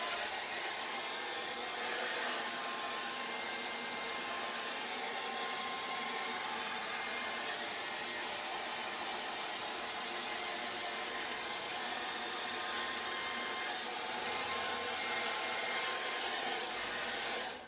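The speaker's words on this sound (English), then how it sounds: "Get the hairdryer again." A hair dryer blows continuously on wet mixed media artwork, a steady even whoosh of air that holds at the same level throughout with no other sounds.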